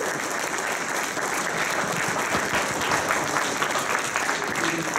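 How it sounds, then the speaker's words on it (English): Dense, steady applause from an audience at an amateur radio DXpedition talk, as a noted DXer is introduced. Many hands clap together in a continuous wash for about five seconds, with no speech over it. "Let's give him a round of applause."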